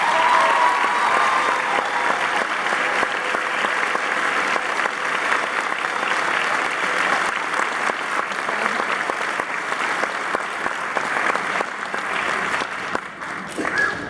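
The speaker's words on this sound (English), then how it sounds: "Let's give them a round of applause." A large audience at a high school symphony orchestra awards event applauds steadily, loud and sustained clapping filling the hall for the whole stretch before tapering slightly near the end.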